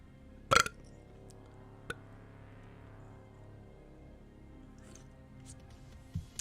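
A single loud burp bursts out near the start during an online poker session, followed by a few faint clicks and a small sound at the end, over a quiet, steady background.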